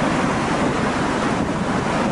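Large sea waves up to four metres high crash on a beach at Antalya, a loud, unbroken roar of surf mixed with gusting wind noise.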